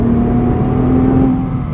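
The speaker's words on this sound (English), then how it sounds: "if you put your foot down in 6th gear on the highway, it's going to go from 6th to 5th to 4th." A 2021 Nissan GT-R Premium with a dual-clutch gearbox downshifts and accelerates on a highway, its engine giving a steady, loud droning roar heard from inside the car, with no talk.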